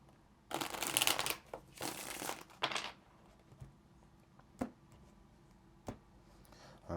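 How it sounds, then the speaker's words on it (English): A tarot card deck is shuffled in a quick flurry of riffling, papery slaps lasting a couple of seconds, followed by a few isolated soft taps and card clicks, quiet and close with no talking. "Let's get one more shuffle."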